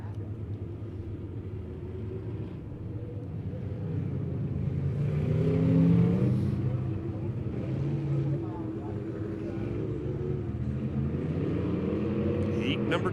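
USRA B-Mod dirt race cars roar around Midway Speedway, engines swelling louder as the pack passes then holding a steady rumble, with an announcer talking over the noise.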